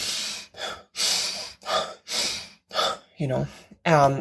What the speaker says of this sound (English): when you want to do 25 to 30 fast breath in